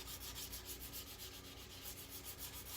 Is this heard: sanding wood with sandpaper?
yes